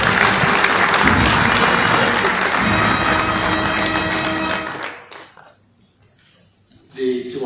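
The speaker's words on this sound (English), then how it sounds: "Please let's usher him to the podium with a round of applause." Loud, sustained applause from a large audience at a military conference closing ceremony fills roughly five seconds, then cuts off abruptly into a quiet room with faint rustling.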